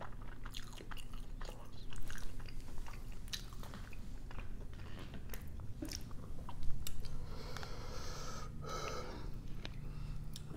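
Close-up chewing and biting of KFC Nashville hot fried chicken, with crunchy bites and breathy snorts over a low background hum, no speech.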